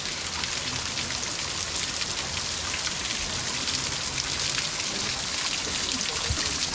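Rushing water at Taytay Falls in Majayjay, Laguna: a dense, continuous hiss of flowing and splashing water, steady and fairly close, with no talk.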